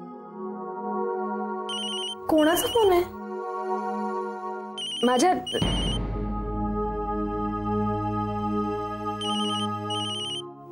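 A mobile phone ringtone rings in repeating electronic melodic bursts, sustained and fairly loud, with short stretches of speech between the rings.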